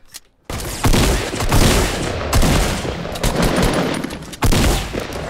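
Rapid bursts of gunfire in a Fortnite Battle Royale match crackle loudly, with sharp shots and sustained automatic volleys following a brief quiet opening and continuing nearly nonstop.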